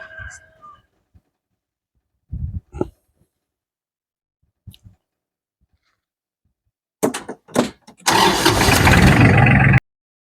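A small Iseki TK33 tractor engine warming up at minimum throttle: scattered short knocks and bursts give way to a steady, loud rumbling run near the exhaust over the last couple of seconds, with brief talk early on.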